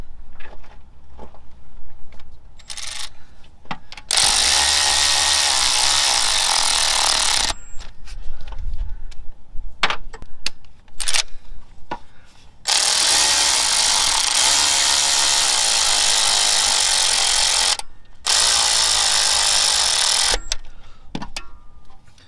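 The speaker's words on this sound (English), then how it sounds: "Now I'm going to take my electric ratchet and we're going to snug both of these down." On a 2008-2016 Chevrolet Cruze 1.4, an electric ratchet runs in long whirring bursts while snugging down alternator bolts, the bursts broken by short pauses and small clicks and knocks from the work nearby.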